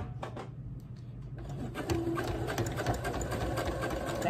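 A sewing machine back stitches fabric for a ruffle sock, first in a few short bursts, then in a steady, close, continuous run of needle stitching with no talking.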